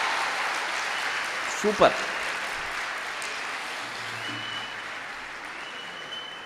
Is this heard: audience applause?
yes